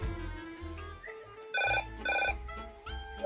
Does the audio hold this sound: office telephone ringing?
yes